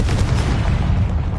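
A Confringo blasting spell explodes in a video game, giving a short, loud, booming burst with a rumbling low-end body that fills the moment without any talk.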